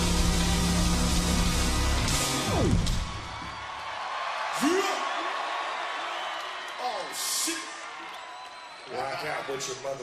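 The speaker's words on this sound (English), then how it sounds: "Now everybody scream." Concert crowd at Coachella 2012 during a set, roaring and whooping loudly in sustained bursts after the music drops out, with a rapper's amplified voice speaking over it.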